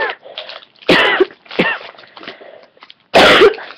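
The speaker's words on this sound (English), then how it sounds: "I don't mean to cough." A person coughs repeatedly at close range, several harsh throaty coughs in uneven bursts with short pauses, ending in one strong cough.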